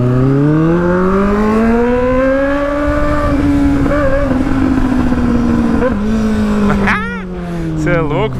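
Honda Hornet motorcycle with a straight-pipe exhaust riding on a street, its engine droning steadily and rising in pitch, with a rider talking over the loud, continuous exhaust note.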